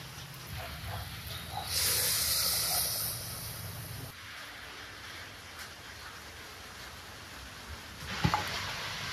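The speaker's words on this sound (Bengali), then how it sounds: "ভাজা ভাজা হয়ে গেছে, এখনই জল দিব।" Water is poured into hot fried spices in a pan while cooking khichuri, giving a loud sizzling hiss for a couple of seconds that then settles into a softer steady bubbling crackle, with a brief sharper sizzle near the end.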